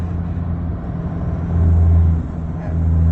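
An Isuzu D-Max 1.9 pickup (2020) cruising at high speed in high gear, its engine and road drone a steady loud low hum from inside the cab that swells slightly partway through, with no talking.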